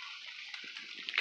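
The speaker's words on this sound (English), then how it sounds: "It's a cold, windy, rainy, wet morning." Rain falls on a cold, windy, wet morning outdoors during a hunt, a steady hiss of drops with faint wind, brief and fairly quiet, with a few soft closer taps near the end.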